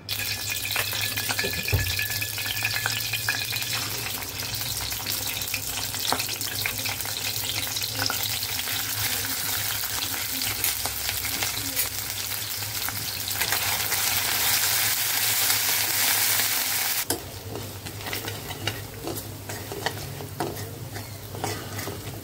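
Fish pieces fry in hot oil with a dense, continuous crackling sizzle that stays loud throughout and eases slightly toward the end, with no talking over it.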